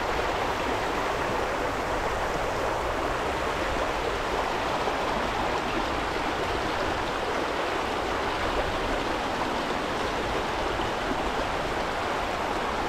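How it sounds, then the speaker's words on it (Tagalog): River water rushes and collides in a dense, unbroken wash of noise that stays loud and even from start to finish, with no voices. "Banggaan ng tubig yun eh."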